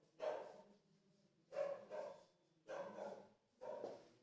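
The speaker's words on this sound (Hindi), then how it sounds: "कुत्ते ने डिस्टर्ब कर दिया थोड़ा।" A dog barks in four separate bursts spaced about a second apart, each a short double woof, moderately close, alone with no talk.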